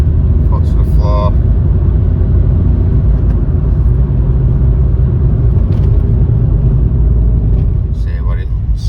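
A car engine fitted with a sports air filter revs hard with the foot to the floor, a loud continuous deep roar and rumble that holds steady throughout.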